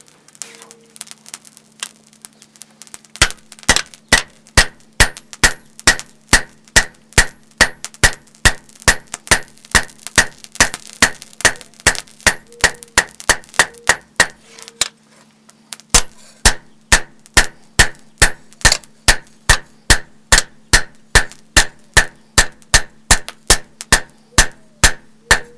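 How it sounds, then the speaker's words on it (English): A standard 4-pound sledgehammer strikes hot metal during knife forging, producing loud, sharp, evenly spaced blows, dozens in a steady rhythm with a brief pause near the middle, close and ringing. "And it's just a standard 4-pound sledgehammer."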